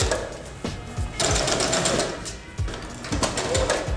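A sewing machine stitching ruffled lace onto a shirt and skirt: close, fast mechanical needle chatter in short repeated bursts with brief pauses between runs.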